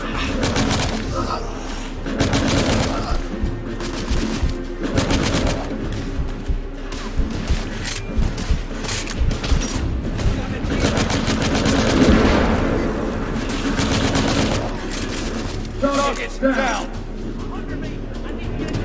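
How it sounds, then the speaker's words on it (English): Rapid bursts of automatic gunfire and shots from the third-person shooter The Order: 1886 crackle almost continuously, loud and dense, with someone talking over the fighting. "just shooting gunfire"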